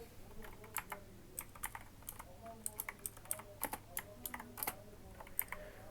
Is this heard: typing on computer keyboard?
yes